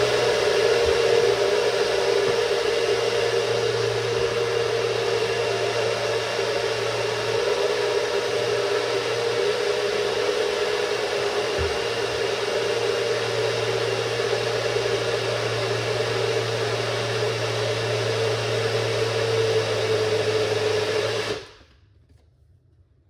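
A blender runs on a sugar-free smoothie with a steady, loud whirring drone that holds evenly for about twenty seconds, then cuts off abruptly into silence.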